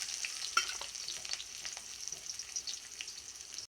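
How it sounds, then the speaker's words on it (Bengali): Onions fry in a pan with a close, steady sizzle, broken by scraping stirs and small crackles; no one speaks. "ভেজে নিচ্ছি এবার পেঁয়াজটাকে"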